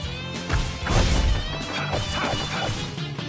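A wrench smash attack lands in Tales of Vesperia on PS4 with a loud, layered crash and whack, followed by ringing tonal effects and a scatter of lighter hits.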